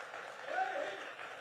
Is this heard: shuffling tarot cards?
no